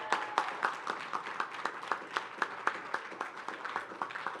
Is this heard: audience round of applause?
yes